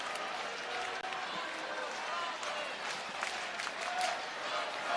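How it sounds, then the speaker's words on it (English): A Wrigley Field crowd at a Reds–Cubs MLB regular-season game roars steadily on its feet, a broad continuous wash of cheering with a play-by-play voice talking over it. "Crowd on its feet here at Wrigley Field."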